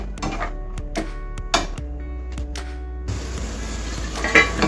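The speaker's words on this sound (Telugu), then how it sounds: "ఆయిల్ వేడైపోయింది, పల్లీలు వేయించుకోవాలి" Peanuts fry in hot oil over a medium flame with a steady close sizzle and a low hum, broken by a few sharp clinks of a utensil against the pan early on.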